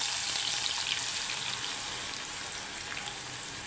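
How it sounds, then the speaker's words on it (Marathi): Dried coconut frying in a pan for Kolhapuri masala, a steady dense sizzle that fades slightly toward the end, close and continuous with no talking. "खोबरं तळून घ्यायचं"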